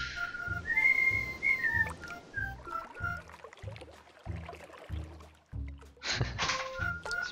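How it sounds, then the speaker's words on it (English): Villagers in the god game Godus whistle together in a bright, marching tune over a steady rhythmic beat, clear and continuous with no talking. "I like how they're all whistling together like it's a march or something."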